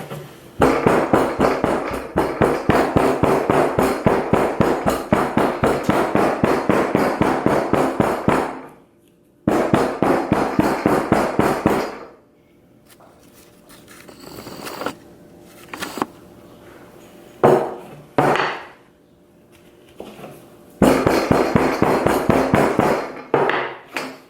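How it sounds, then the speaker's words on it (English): A hammer taps rapidly and steadily on sand packed into a jewelry casting mold, with long runs of sharp, even blows broken by pauses and a few scattered knocks. "As I hammer, I add more sand."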